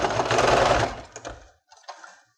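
Sewing machine stitching a short seam in fabric during a kitchen craft project: a loud, steady whir for about a second and a half, trailing off, then a couple of brief, fainter stitch bursts.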